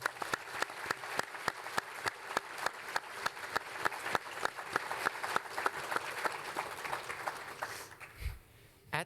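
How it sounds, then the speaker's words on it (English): Applause from an audience at a high school award ceremony, honoring three nominees, with sustained clapping punctuated by sharp individual claps, fading out near the end. "Please join us in applauding our nominees"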